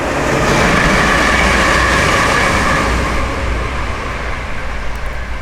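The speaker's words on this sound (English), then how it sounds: "Hear the train." A train passes nearby, making a loud, steady rushing rumble with rail noise that fades slightly toward the end, heard at a canal beside a narrowboat.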